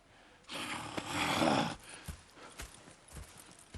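Horses in Red Dead Redemption 2 give a long breathy snort, then hooves clop softly and irregularly nearby at low volume, with no talking.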